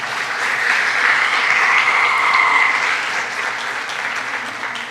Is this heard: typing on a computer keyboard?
no